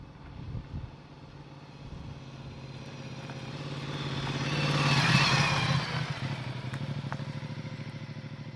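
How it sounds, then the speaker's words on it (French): A Ducati XDiavel S motorcycle rides along the road, its engine droning steadily and swelling briefly in the middle, with rushing road and wind noise heard from onboard. "on se retrouve à bord de cette Ducati X Diavel S et on va aller un petit peu rouler"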